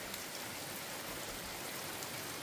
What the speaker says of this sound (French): Voilà les trompes d'eau qui tombent.